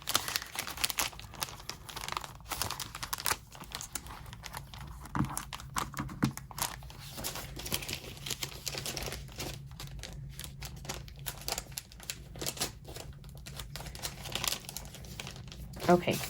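Plastic packaging crinkles and crumples continuously at close range during desk cleaning after an unboxing, a dense rustling that runs throughout while a person talks over it.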